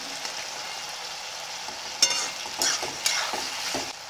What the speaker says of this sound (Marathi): एक अजून थोडंसं मी परतून घेते मीडियम गॅसवर।